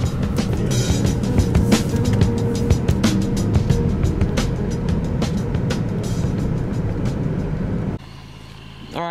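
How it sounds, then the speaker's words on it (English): A car blazes past on a Maryland road at night, a loud rushing roar of engine and tire noise that fills most of the stretch, then cuts off abruptly near the end. "we just had a car blaze past us and hit this copperhead"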